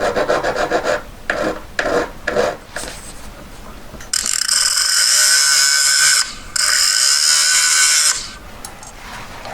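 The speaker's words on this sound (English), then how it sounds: "just file that flat" A hand file rasps back and forth across a small metal earring post bar, flattening it at a jeweller's bench; irregular short strokes early give way to a long, steady, close grinding run.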